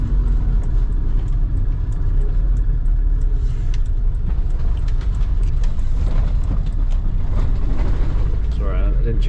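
An Iveco bus drives along with a steady, loud engine rumble and mechanical clatter from inside the cabin, and the engine note shifts partway through as the driver changes gear.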